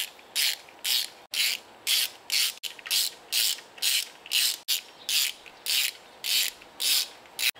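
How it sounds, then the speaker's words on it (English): A 3/8-inch ratchet with a number 3 screwdriver bit drives screws during work on a 1967 Chevrolet C10, making a steady, rhythmic run of close, raspy clicking strokes, each pass repeated at an even pace, with no voices. "I just grabbed a number 3 screwdriver bit here for my 3/8 ratchet, and that's what I'm going to install this with"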